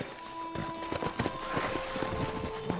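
Horse hooves clip-clop at a steady walking rhythm in the Red Dead Redemption video game, close and clear over a sustained tonal hum of game music.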